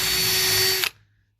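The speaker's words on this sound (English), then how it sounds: "that one drilled clean through, no problem" A power drill whines steadily while drilling a small hole through a truck cap, then stops sharply and spins down into silence.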